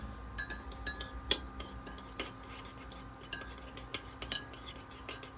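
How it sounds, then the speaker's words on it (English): A spoon stirs a drink into a whirlpool, making repeated light metallic clinks and taps against the glass at an irregular quick rhythm, close and fairly quiet, with no talking. "Stir it without getting any on the counter."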